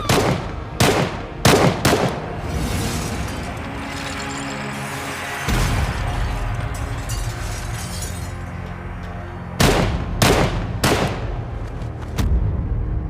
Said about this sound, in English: Without warning, 4 gunmen burst in and begin shooting.